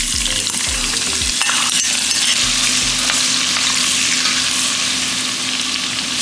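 Carrots fry in a pot as the base for jollof rice, a loud, continuous close sizzle with a few low thumps of stirring near the start and no talking.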